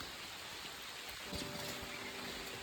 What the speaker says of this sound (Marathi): पाऊस येलो हो मित्रांनो